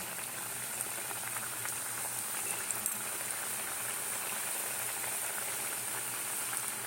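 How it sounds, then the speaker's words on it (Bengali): Sweet potato and mung dal pitha frying in hot oil, giving a steady, dense bubbling hiss that holds evenly throughout with a few brief crackles, close and alone without talk. "তেল গরম হয়ে গেছে, এই যে পিঠেগুলো নিয়ে এসেছি, এবারে দিয়ে দেবো।"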